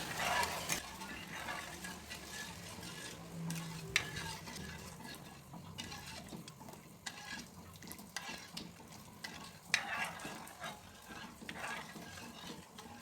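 A pot of sugar syrup bubbles and simmers steadily, with a soft continuous hiss and a few light clinks of a utensil against the pan.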